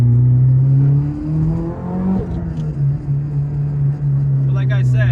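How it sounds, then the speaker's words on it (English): A turbocharged Mitsubishi Evolution 10 revs with a rising engine drone and a whirring turbo spool building up, loud and close, with a few sharp hisses near the end. "You might be able to hear the actual spool of the turbo."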